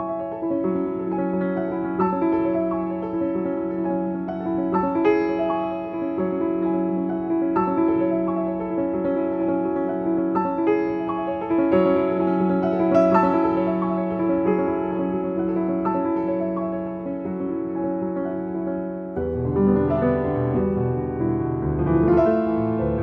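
Grand piano captured by a pair of Hear 2015 wide cardioid mics set about 30 centimeters outside the arch, angled to the lid, playing a sustained sequence of full, resonant chords and notes with a change of harmony near the end.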